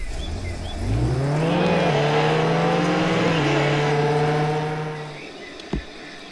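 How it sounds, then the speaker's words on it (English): Camaro driving in the Roblox Jailbreak video game, a loud engine revving up and holding a steady rising drone before fading out, ending with a brief thump. "And you'll go here, and then you take your Camaro."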